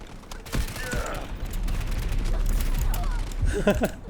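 Rapid bursts of UZI submachine gun fire in the shooter game Delta Force, crackling through a busy battlefield mix with a low rumble and a sharper cluster of shots near the end.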